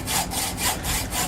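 Steady back-and-forth strokes of a hacksaw cutting through a UK 59 VZ gun barrel clamped in a vise, backed by scrap wood, in a close, rhythmic rasp with no talking.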